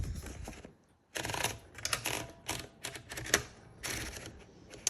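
A sheet of paper is fed into a Smith Corona Electra 110 electric typewriter, with a run of close rustling, sliding and ratcheting platen clicks in short bursts broken by brief pauses.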